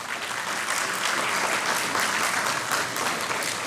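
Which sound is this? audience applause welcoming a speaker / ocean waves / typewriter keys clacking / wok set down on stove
audience applause welcoming a speaker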